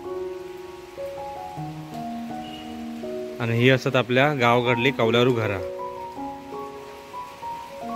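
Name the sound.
heavy monsoon rain falling in a Konkan village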